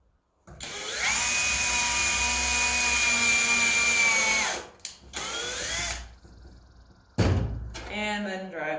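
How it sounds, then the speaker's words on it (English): A power drill pre-drills screw holes in wood for a DIY step stool, a loud steady whir for several seconds, then short bursts and a final spin-down, with a person speaking nearby. "and pre-drill our holes"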